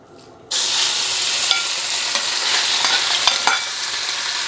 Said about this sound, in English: what we need to do is get it in the wok and then spread it out so we've got a single layer of meat